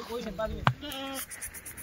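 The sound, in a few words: goat bleating at a goat market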